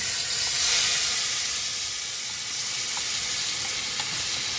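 Red chillies fry in hot oil, giving a steady, close sizzle with a bright hiss. It carries on evenly throughout, with a few small pops and no talk.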